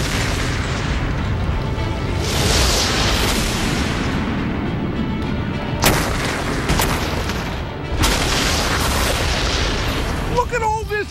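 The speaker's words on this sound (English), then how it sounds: "I'm going to blast holes in that boat with this cannon." A cannon blasting holes in a boat produces several heavy booms and sharp cracks among sustained roaring noise, loud and close, followed by a brief voice at the end.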